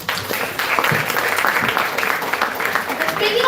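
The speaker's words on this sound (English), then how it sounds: "Can we give another cheer for the speakers?" Audience at a school intramurals event cheering and applauding for the speakers, with dense sustained clapping and voices blending into steady crowd noise throughout.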